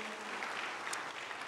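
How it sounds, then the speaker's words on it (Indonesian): A church congregation claps together, a steady, fairly faint wash of applause with no voices over it. "mari kita sama-sama ya memberi tepukan dan menyambut"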